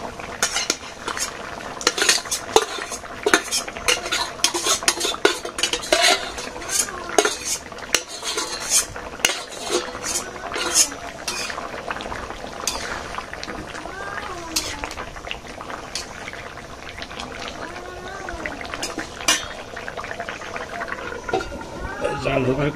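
Prawns with cumin and garam masala cook in a village kitchen pan, with repeated metal scraping and clinking of a spatula, light sizzling, and a voice speaking at times.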